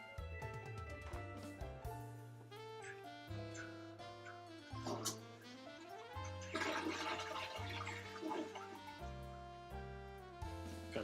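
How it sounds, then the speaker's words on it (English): A toilet flushes in a loud, sustained rush of swirling water that fills the clip, heard alone with no talking, close and prominent against a faint tonal background. "my stream just heard the spicy toilet flush."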